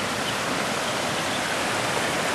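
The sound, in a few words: waterfall in Yabakei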